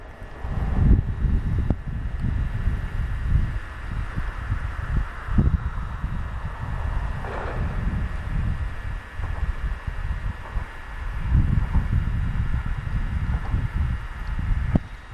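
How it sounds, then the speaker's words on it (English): Wind buffets the microphone on a hilltop by a lake near the Oroville Dam spillways and Bidwell Bar Bridge, a continuous low rumble that surges in uneven gusts with no voices. "It's windy up here today."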